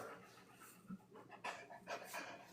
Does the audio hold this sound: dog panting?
yes